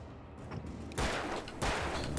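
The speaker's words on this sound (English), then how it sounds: "let me return the favor with a gunshot" Gunfire in the video game Alan Wake, two sudden loud bursts of broadband blasts that hold over a constant noisy background, without talk.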